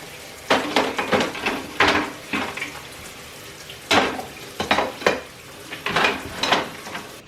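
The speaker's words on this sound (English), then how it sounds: "I did enough dishes for now" Dishes are washed by hand, with irregular clinks and clatters of plates and utensils over running water, close and moderately loud, coming in bursts separated by brief pauses.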